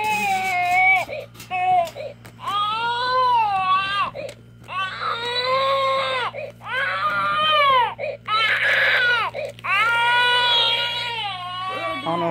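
A newborn baby cries in repeated loud wailing bursts with short breaths between them, heard close over a steady low electrical hum.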